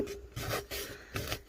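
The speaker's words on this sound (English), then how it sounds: "I do like to give it a good sanding here." Quiet, close hand sanding, with rhythmic back-and-forth rasping strokes, about four passes in quick succession.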